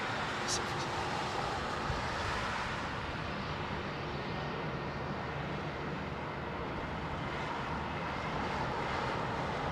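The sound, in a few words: airliner departing Heathrow runway 27R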